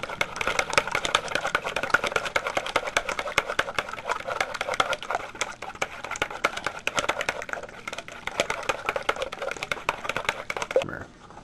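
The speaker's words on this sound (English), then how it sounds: "I'm gonna whisk this." Eggs whisked briskly in a bowl for chicken parm, a fast continuous clatter of whisk against the bowl that runs nearly eleven seconds before stopping abruptly.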